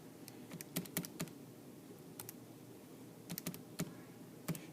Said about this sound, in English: Now I just got to type that in.